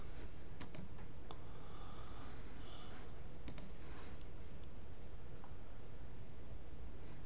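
Mouse clicks and light typing on a computer, a handful of sharp clicks in small clusters near the start and middle over a constant hiss of background noise.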